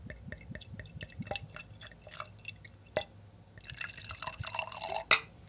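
Cabernet Sauvignon poured from a bottle into a glass, giving a run of quick dripping, glugging liquid pulses up close, ending in a sharper splashy burst; fairly quiet and free of talk.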